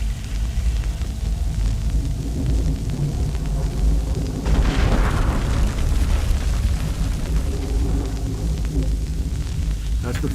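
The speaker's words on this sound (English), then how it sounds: "You hear that thunder?" Thunder sound effect in a geology animation showing the first break of the Farallon plate: a deep, continuous rolling rumble lasting throughout, swelling louder around the middle, with speech mixed underneath.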